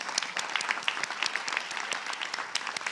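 Applause from an audience at a school board of education meeting, a dense steady wash of many hands clapping, moderately loud, filling the room without pause.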